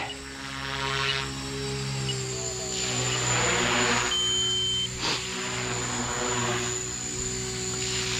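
Align T-Rex 300X RC helicopter in flight, a thin high rotor and motor whine that rises and falls in repeated swells, moderately close with no talk.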